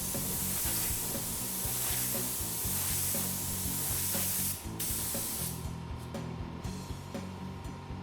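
Spray gun painting a car firewall, a continuous loud hissing spray that pauses briefly near the middle and resumes with slightly less force, close by and steady.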